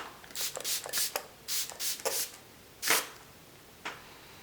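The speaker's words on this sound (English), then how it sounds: "Just going to spray a little bit of Fix Plus." Several short airy hissing bursts of makeup setting spray (Fix Plus) in quick succession, then a pause and two more spritzes, close and fairly quiet with no talking.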